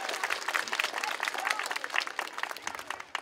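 An audience at a fourth-grade school celebration claps, a lively burst of close applause with scattered cheers that tapers off near the end.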